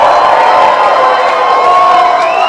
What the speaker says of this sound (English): A big round of applause for all these gentlemen up here!